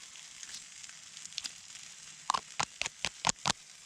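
Onions fry in a pan for burger chili at a woodland wild camp under a tarp. A steady soft sizzle runs throughout, then a quick run of sharp, rhythmic clatters near the end.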